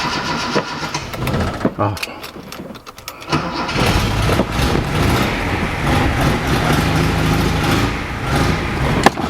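A rusty Datsun 240C with a flat tyre, low on fuel, cranks through a few stuttering attempts, then catches and settles into a loud, rough, close running rumble, with a voice briefly heard at the start.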